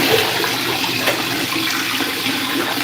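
Water is poured while clothes are washed by hand, a steady rushing splash that holds at an even level throughout with no voices.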